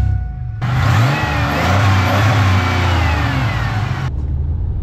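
A Pontiac Grand Prix engine runs steadily at operating temperature, a loud continuous mid-pitched hum with rising whine, idling up briefly and settling, with no talk.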